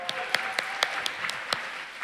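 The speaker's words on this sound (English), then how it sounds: "Y'all give him a round of applause." Audience applause at the Film Prize 2025 awards ceremony, a steady wash of clapping from a crowd with sharper individual claps standing out, no talk over it.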